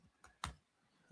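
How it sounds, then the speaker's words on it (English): A few light keyboard keystrokes, faint and irregular, with short gaps between taps. "my typing is terrible"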